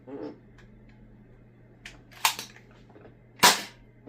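A Nerf Action Secret Shot blaster fires half darts with sharp, close pops, one lighter snap followed by a louder crack about a second later, against a quiet room with a faint steady hum.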